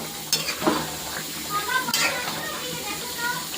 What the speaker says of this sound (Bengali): এখন মাংসটা আরও ভালো করে একটু কষিয়ে নেব